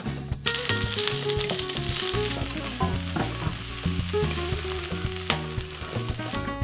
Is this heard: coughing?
no